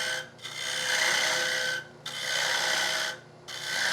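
A hand gouge scrapes across a cherry wood yarn bowl in three long, steady rasping strokes, each lasting over a second with brief pauses between, close and loud.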